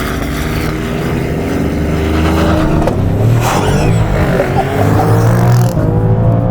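A 2023 Maserati Grecale SUV launches hard under launch control, its engine roaring loud and close as it accelerates without a break, with the pitch climbing through the gears.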